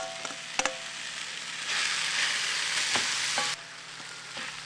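Pepper seeds, stems and skins hit a hot frying pan with a few sharp clacks, then a loud hissing sizzle that swells, stays strong and drops off abruptly near the end.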